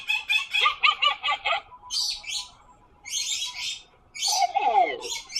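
A pet bird mumbles and chirps, letting out rapid bursts of high twittering and scratchy chatter in uneven phrases with short pauses between them. It is close by, with no talking.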